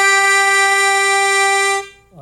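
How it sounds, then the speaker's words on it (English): One loud, steady harmonica chord is held close for about two seconds, holes six and three sounding together while the tongue blocks the middle holes, then it cuts off abruptly. "So I'm hitting holes number 6 and 3, and I'm blocking off 4 and 5 with my tongue."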